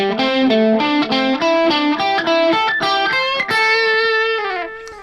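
A distorted electric guitar plays a minor pentatonic sequence in fourths, a steady run of loud, sustained picked notes stepping through the scale, with a wider jump partway through, unaccompanied and without talk.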